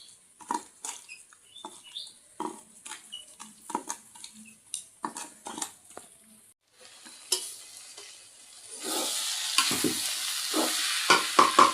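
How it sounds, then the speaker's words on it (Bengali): Food fries in a pan, with scraping and stirring strokes in an uneven rhythm, then a louder steady sizzle rises toward the end; close and fairly quiet, with no voices. "প্রায় ভাজা হওয়ার মধ্যে আছে আর অল্প একটু হলেই হয়ে যায়"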